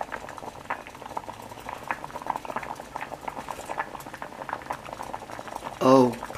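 A pot boils on the stove with steady bubbling and popping, close and moderately loud, and a brief clatter near the end.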